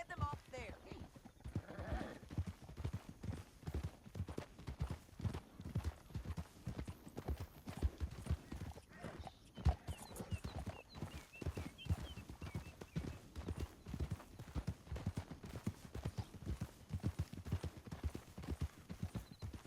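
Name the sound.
horse hooves from a video game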